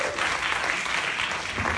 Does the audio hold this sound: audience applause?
yes